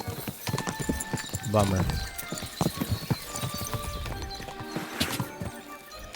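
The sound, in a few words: horse hooves clip-clop in video game Kingdom Come Deliverance 2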